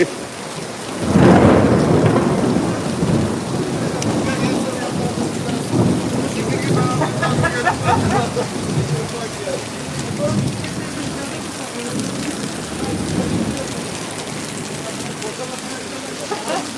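Heavy summer rain pours steadily while a rumble of thunder rolls in early and fades, followed by continuous loud rain hitting surfaces close by, with faint voices under it.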